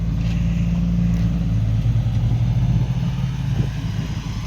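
A heavy six-wheel diesel truck engine rumbles steadily at idle, loud and close, with a low throbbing tone throughout and no voices.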